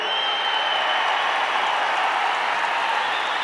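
Sustained applause fills a film audio launch event, a dense, steady wash of clapping from a large audience that holds at an even, loud level throughout with no voices rising above it.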